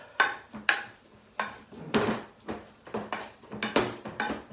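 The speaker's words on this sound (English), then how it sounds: "Got my little potato masher here. Good old mash down that." A potato masher thumps repeatedly into a salsa-like mix of ingredients in a bowl, close and clear, with about a dozen uneven knocks and scrapes at a steady working rhythm.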